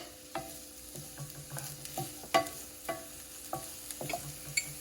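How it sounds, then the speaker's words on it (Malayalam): Chopped garlic, onion and capsicum sautéing in a pan make a quiet sizzle under a series of irregular scraping stirs and clinks of a spoon against the pan, no talk. "കുറച്ച് ക്യാപ്സിക്കം കട്ട് ചെയ്തതും ചേർത്ത് നന്നായിട്ടൊന്ന് വഴറ്റിയെടുക്കാം."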